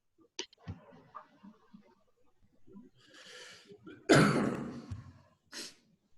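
Quiet room sounds and breathing, then one loud, harsh cough burst up close, followed by a brief breathy sound.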